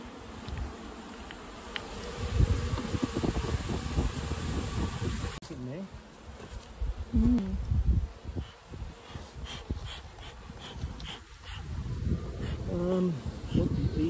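Honey bees buzz steadily throughout while being cut out of a possum box, a dense droning hum with people talking over it nearby.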